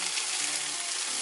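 Chicken sizzling in a hot skillet while cooking a bodybuilding meal-prep meal, a steady dense frying hiss close up and unbroken, with no talk.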